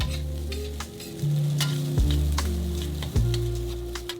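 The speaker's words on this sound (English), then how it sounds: "Break apart the rice using your wok spatula and keep stir-frying to get that nice separation and heat." Rice is stir-fried in a wok with a continuous loud sizzle, broken by several sharp metallic scrapes of a spatula against the pan.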